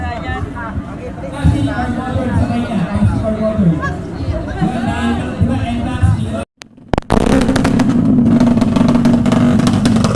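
Motorcycle engines rev loudly at a motor show in Lagonoy, blasting in near, sustained bursts over a thick crowd babble, with voices talking close by.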